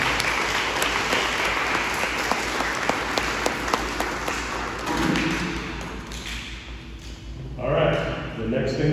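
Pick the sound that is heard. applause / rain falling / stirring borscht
applause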